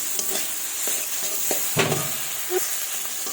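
Katla fish masala being sautéed and stirred in a pan for a spicy jhal curry, with a steady soft sizzle broken by several scraping stirs of the spatula, close and moderately loud.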